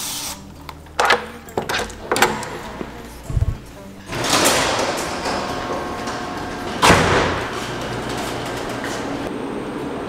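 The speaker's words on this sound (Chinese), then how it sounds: "开车库" A garage door at a Lake Tahoe cabin opening: a few sharp knocks and clunks, then a loud, sustained mechanical rumble and rattle as the door travels, heard close.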